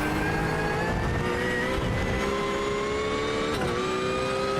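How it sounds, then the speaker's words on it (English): A race car engine at a Red Bull Ring round revs hard as the throttle comes on out of corners, a loud, steady rising whine with pitch climbing and dipping through gear changes, heard alone. "you just get to listen how easy he's got to get on this throttle coming out of these corners"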